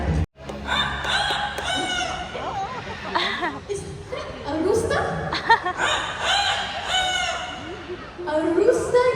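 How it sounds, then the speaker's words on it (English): A rooster at Mandai Bird Paradise in Singapore crows loudly and close, its drawn-out calls repeating over the clip while visitors talk and laugh over it. "That's a rooster."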